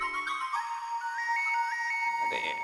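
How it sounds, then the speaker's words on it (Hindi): A phone ringing indoors with a repeating electronic ringtone melody, steady and fairly close, with faint background sound from a television comedy scene. "दया बेन का फोन है। बजने दे, मत उठा।"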